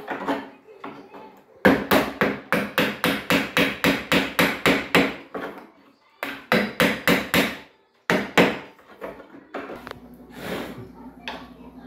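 A 1/4 inch wood chisel struck by a hammer to cut a door lock mortise, with close, loud knocks in quick rhythmic bursts separated by short pauses and no talk.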